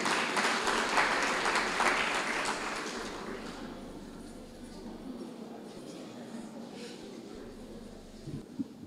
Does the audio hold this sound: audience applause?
yes